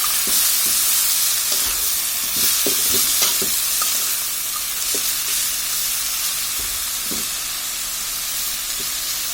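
Radish greens (mula shak) stirred in hot oil: a steady, close sizzle with scattered scraping knocks of a spatula against the pan throughout, no talking.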